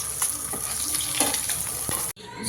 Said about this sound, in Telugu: ఇలా మొత్తం టూ సైడ్స్ కలాలన్నమాట మంచిగా నీట్గా ఫ్రై అయ్యే వరకు ముక్కలు ముక్కలు